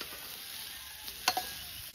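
Potatoes fry in a pan with ginger, cumin, green chillies, turmeric and salt, making a faint, steady sizzling hiss with a couple of brief stirring clicks.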